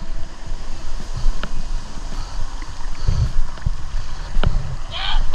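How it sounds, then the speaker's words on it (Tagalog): Big ocean waves slap against a small boat near an island, with gusting wind buffeting the microphone, scattered hull thumps and a brief shout near the end. "Ay, gago ka! Laki na alon!"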